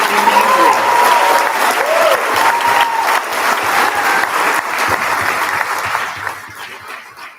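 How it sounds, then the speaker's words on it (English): A large crowd at a junior honor society induction ceremony claps steadily in sustained applause, loud and dense throughout, gradually thinning toward the end. "let's give one last big round of applause to the inductees"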